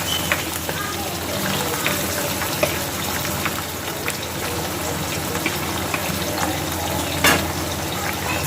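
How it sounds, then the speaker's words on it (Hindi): Liver fries with onions in a pan while being stirred. A dense, steady sizzle fills the whole stretch, with occasional scrapes and clinks of the spoon and a voice talking over it. "इसको बस हम भूनेंगे जब तक इसका कलर चेंज नहीं हो जाता"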